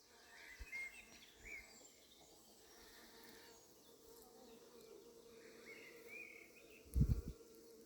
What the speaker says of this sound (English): This is teeming with bees.